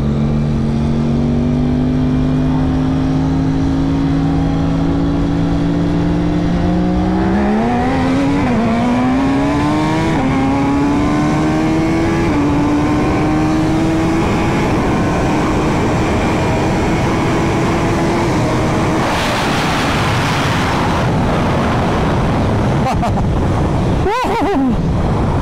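A $100,000 Ducati SuperLeggera V4 motorcycle accelerates hard through the gears, its loud, close engine note rising in pitch, dropping briefly at each shift and climbing again, with heavy wind roar throughout.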